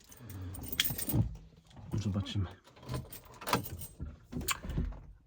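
Car keys for a VW Caddy jangle in short metallic bursts in freezing weather while someone talks over them, with light handling noises between the rattles.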